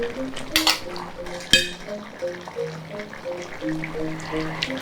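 Vegetables and melinjo leaves being stirred in coconut milk in a pot, with soft spoon scrapes and light clinks against the pan in a steady, close rhythm and one sharper knock.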